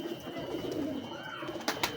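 A pigeon coos softly at close range in a short, low, rolling call, with a couple of faint clicks near the end.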